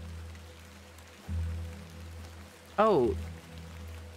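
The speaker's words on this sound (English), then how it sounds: "Let's get out of the rain." Soft, steady rain falling in a video game scene, a constant hiss beneath a low hum, with a voice briefly speaking over it.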